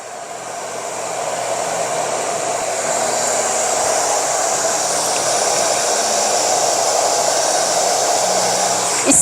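A hair dryer blows steadily and loudly during a men's short haircut at a barber's, the airflow directed upward from bottom to top, a continuous rushing hiss with no pauses.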